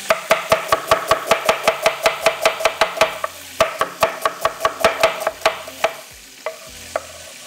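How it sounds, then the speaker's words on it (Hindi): Onions being sliced on a cutting board with a knife, a fast, even run of sharp, close knocks followed by a few slower, irregular chops, no talking. "प्याज को कटिंग करेंगे।"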